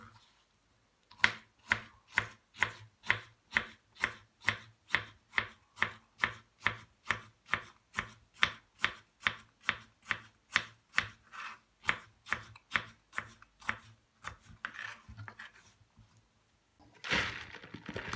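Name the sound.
chopping cucumber with knife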